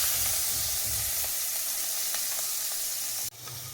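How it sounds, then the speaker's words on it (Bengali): Prawns fry in oil left from cooking pointed gourd, giving a continuous close sizzle with faint crackles, then a sudden cut to a quieter hiss near the end, with no talking. "এখন আমি চিংড়ি মাছটাকে ওই তেলে ভেজে নেব"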